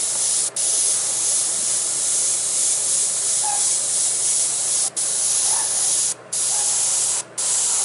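An airbrush sprays paint over an old stencil in a long, steady hiss that continues alone, broken by a few brief pauses where the spray stops for a moment before starting again.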